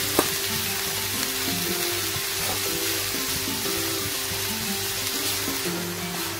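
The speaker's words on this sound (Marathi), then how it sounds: "त्याच तुपामध्ये आपण आपले गाजर टाकून घेऊ।" Grated carrots fry in hot ghee for carrot halwa, giving a steady, dense sizzle with faint stirring scrapes, close and continuous without any talking.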